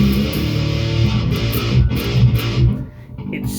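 Electric guitar played through an amp with its low end cut, a dense, buzzy, distorted tone sustained at steady loudness with chord changes, thin and midrange-heavy, no voices.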